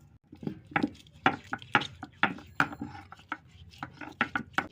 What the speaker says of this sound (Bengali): এবার রসুনটা শিলে বেটে নেওয়া হবে।